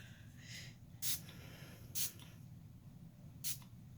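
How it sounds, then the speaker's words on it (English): A mister bottle sprays paper during a poinsettia card-making project: three quick, soft spritzes spaced about a second apart, each a short hiss over a low steady room hum. "I'm just going to take my mister again and I'm going to spray this."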